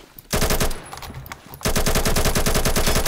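Automatic fire from an AK105 rifle with a 5.56 conversion in Phantom Forces: a loud sustained burst of rapid shots, a short pause with quieter shots, then another long continuous burst.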